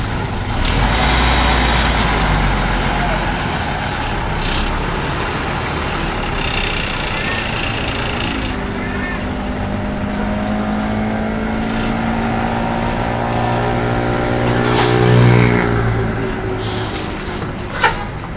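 An X Haryanto bus engine revs up close and loud, with rising and falling motor tones over steady road rumble while buses jostle on a road in Palembang.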